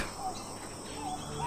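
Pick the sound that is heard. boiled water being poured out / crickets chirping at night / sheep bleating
crickets chirping at night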